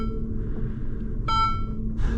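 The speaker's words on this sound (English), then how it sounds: "Still has annoying beeps when you put it in reverse" A Ferrari SF90 sounds its reverse warning, a single clear electronic beep over a low hum inside the hybrid car, followed by a short soft burst of noise.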